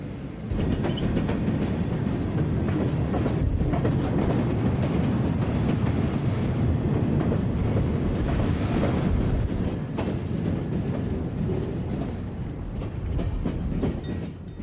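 A CSX freight train rolls past near North Bergen Yard on the Hudson River line, giving a steady loud rumble with rhythmic wheel clatter that holds for the whole stretch, and nobody is talking.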